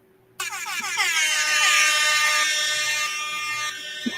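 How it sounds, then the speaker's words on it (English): A loud, sustained air horn blast starts abruptly and holds steady for several seconds, bright and brassy with no talking. "It was like an air horn sound effect"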